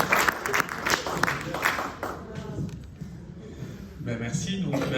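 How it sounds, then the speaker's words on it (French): Audience clapping in a lecture hall welcomes a speaker before a talk on blockchains, tokens and fundraising; brisk applause at first that thins out and tapers, with a voice speaking briefly near the end. "je vous demande de l'applaudir, puisqu'il va commencer son exposé"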